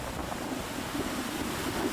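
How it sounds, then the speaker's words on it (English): Waves rolling onto a French beach in Normandy, a steady broadband wash of surf with wind rumbling across the microphone, continuous and fairly loud with no voices. "A French beach."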